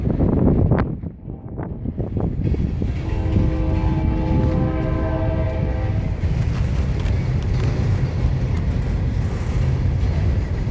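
A train rumbles past near the Mulberry Phosphate Museum in a steady, loud roar with metallic rolling noise and a few squealing tones, wind buffeting the microphone.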